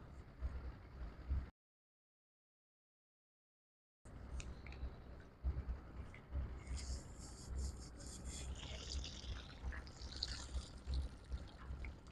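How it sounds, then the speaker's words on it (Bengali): Small piali fish caught from a river in a flour-baited bowl trap flap and jump inside the bowl. A busy, close wet pattering and slapping follows a brief dead silence, with splashy bursts layered over a low rumble. "কেমন করছে মাছগুলো, একদম লাফাচ্ছে কেমন"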